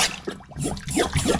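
A Mares Abyss Voltrex second stage scuba regulator splashing into water, a brief close plop followed by gurgling and bubbling for about a second.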